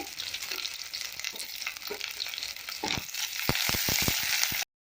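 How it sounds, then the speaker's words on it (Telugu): Green chillies and onions fry in hot oil with a dense, crackling sizzle throughout. Near the end, a burst of sharp, rapid clacks comes as the pan is stirred. "మనకి ఇవి నూనెలో వేగుతూ ఉంటాయి."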